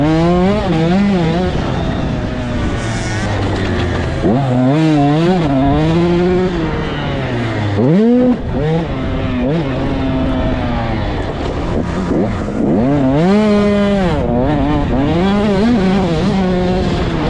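Dirt bike engines rev and race loudly at a motocross track during a Wednesday night practice in Albany, with rising and falling whines of several bikes passing close and far, continuous throughout.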